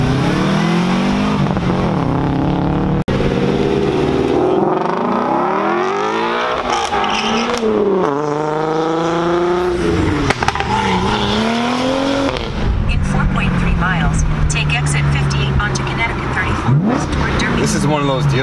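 An Audi RS3 five-cylinder engine revs hard and accelerates at a cars-and-coffee meet, rising and falling pitch sweeps loud and close, with voices talking over the engine noise throughout.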